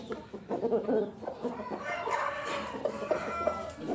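Chickens cluck close by in a busy, uneven chatter, with a rooster's crow rising through the middle; loud and near, no talking.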